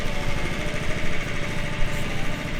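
A reel lawn mower cuts perennial ryegrass low at dusk, giving a continuous whirring, rattling drone that holds steady and close throughout, with no speech.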